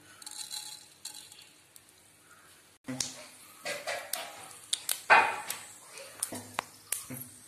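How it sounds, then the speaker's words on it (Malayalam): Mustard seeds pop and splutter in hot oil in a pan for a Kerala-style bitter gourd stir-fry: quiet at first, then a burst of sharp, irregular crackles that keeps going close by. "പാനിൽ എണ്ണ ഒഴിച്ച് ചൂടാകുമ്പോൾ കടുകിട്ട് പൊട്ടിക്കുക."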